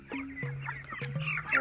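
Chickens on a poultry farm squabble at feeding time, with close, loud clucks and squawks in quick succession over a busy flock.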